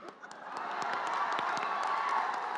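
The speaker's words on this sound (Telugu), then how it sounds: "చప్పట్లు కొట్టు" A large audience at a film success celebration claps and cheers, with scattered sharp hand claps over a swelling wash of crowd noise and whoops that builds and holds steady.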